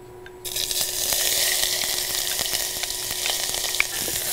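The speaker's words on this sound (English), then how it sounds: "saute the onions until they're translucent but not brown" Onions hit shimmering olive oil in a saucepan over moderate heat and sauté with a sudden, steady crackling sizzle, close and fairly loud, with occasional spattering pops and no speech.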